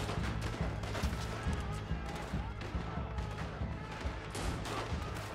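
Sharp gunshots from the video game Red Dead Redemption 2 fire repeatedly over a dense, noisy background, several close bursts punctuating a steady rumble.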